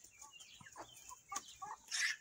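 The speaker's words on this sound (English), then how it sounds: "we do have 21 chickens out here" Backyard flock chickens cluck softly and intermittently, a few scattered calls rising near the end against a quiet outdoor background.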